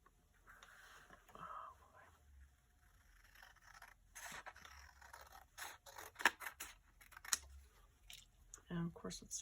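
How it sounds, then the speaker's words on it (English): Scissors snipping freehand through paper while making a one-page folio, a series of soft close crisp cuts and scrapes with pauses, faint and intermittent, with some quiet handling noise. "If I cut this, watch me do this freehand."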